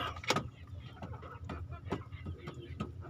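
Chickens feed close by on azolla, a run of clucks and sharp pecking taps spaced through the moment over a low farmyard background.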